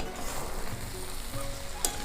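Muri ghonto, a dish of rice cooked with fish, is stirred in a frying pan, giving a close, steady sizzle with a brief scrape of the spoon near the end.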